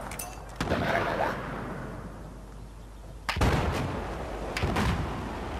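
Grenade blasts go off in the game Battlefield 4, two loud booming explosions a few seconds apart, each followed by a rumbling tail over steady combat noise.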